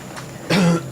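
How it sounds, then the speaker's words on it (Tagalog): An older man in a home coughs once, a single harsh, throaty bark close by, with faint breathy sounds before it and a short catch right after. "Tagal na yung ubo nyo"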